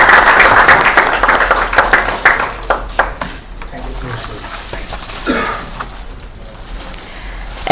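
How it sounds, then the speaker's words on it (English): An audience bursts into loud, dense applause welcoming a professor at a NALSAR law university programme release, then the clapping thins out and fades under ongoing room noise. "Please join me in a round of applause"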